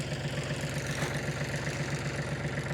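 A tractor engine runs steadily at about 1800 to 2000 rpm during ploughing, giving a continuous low throbbing drone close to the listener with no voices.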